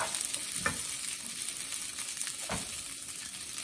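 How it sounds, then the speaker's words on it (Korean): Rice stir-fried with melting butter in a hot pan, a low steady sizzle with a couple of scraping stirs, faint and close. "열이 오른 팬에 버터를 넣고 버터를 녹이면서 밥에 버터를 같이 이렇게 볶아주세요."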